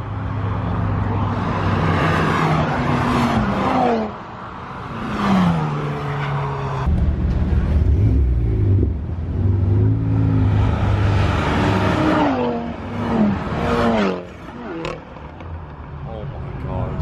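Audi TT RS race car, styled like the S3 24-hour Le Mans car, roaring loudly with repeated revs and engine pitch sweeps at a tuner show, its note under continuous crowd chatter and nearby talk.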